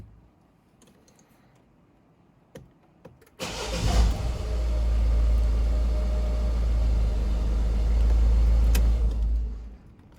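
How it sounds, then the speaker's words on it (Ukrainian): A 2020 Peugeot Partner 1.6 starts after an oil change and runs for several seconds, a loud steady engine drone that begins abruptly with a crank and ends with shutdown, preceded by faint clicks and no talk. "Секунд 10 попрацювала машина, заглушив."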